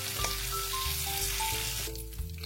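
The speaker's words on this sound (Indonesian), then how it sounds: "biar nanti kita ini goreng ikan tongkol ini nggak meletup-letup ya" Tuna pieces coated in wheat flour fry in hot oil with a steady, close sizzle that carries on without pause, with a few faint tonal sounds drifting in the background.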